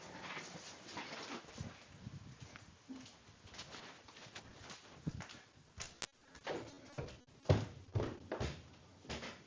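A dog moves and stirs around a room beside a racing-game setup, making soft thumps and scuffles at low volume with no talking.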